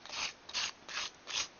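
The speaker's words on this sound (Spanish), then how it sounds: "vamos a lijar con mucho cuidado nuestra pieza." A ceramic figure of the Virgin of Guadalupe is lightly sanded by hand to remove burrs, giving four soft, even rasping strokes in a steady back-and-forth rhythm, close and quiet, with no talking.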